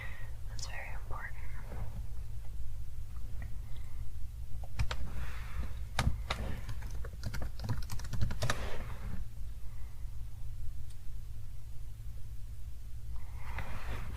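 Light tapping on a computer keyboard while notes are entered during a realistic medical exam for a scorpion sting, a soft close-up clatter in scattered short runs over a low hum, with faint whispered talk.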